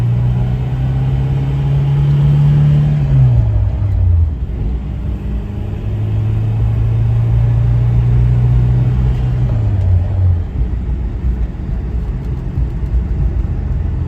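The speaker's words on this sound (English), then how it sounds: "You can hear the car going over the cracks" A 1967 Alfa Romeo Giulia 1300 ti's steady road rumble fills the interior, with a humming engine tone that rises and falls as tires roll over cracked, choppy pavement.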